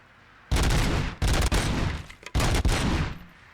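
Loud gunfire from the RoboCop Rogue City video game: three sustained bursts of rapid automatic shots with short pauses between, close and dominant, no talking.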